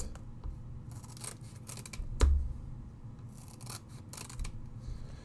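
Scissors snip and rasp through sticky foam tape, a few close crisp cuts with one sharper snap midway, quiet handling noise between.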